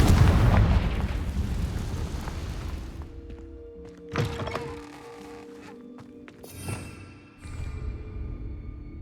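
A Confringo blasting spell going off in Hogwarts Legacy: a loud, close booming explosion that dies away over a few seconds, followed by smaller thuds and crackling debris.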